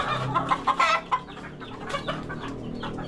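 Chickens cluck close by in a farm coop, a burst of loud clucks early on followed by softer, scattered clucking.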